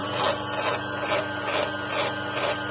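A juice extractor pressing green plants such as nettle and chives makes a steady mechanical whirring grind with a rhythmic pulsing crunch repeating about twice a second, close and continuous.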